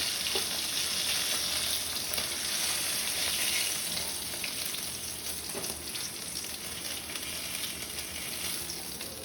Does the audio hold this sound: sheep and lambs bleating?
no